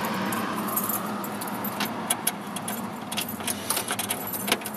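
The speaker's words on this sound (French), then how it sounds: "Clé, il y a pas mal de clés." A bunch of keys for a 1964 Ford Thunderbird jangles close by inside the car, a bright metallic clinking that keeps going in little bursts.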